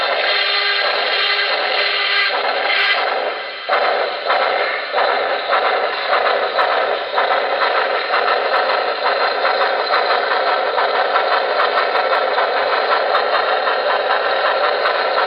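A model N&W Y6 steam locomotive runs on a layout railroad, giving a loud, continuous mechanical whirring and chuffing hiss, steady throughout with no talk over it.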